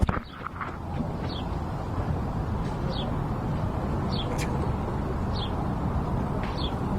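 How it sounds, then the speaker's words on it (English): Bird chirps sound from outdoors in a few short, high, repeated calls spaced a second or so apart over steady low background rumble, with faint brief talk near the start. "so then you just hear the bird chirping."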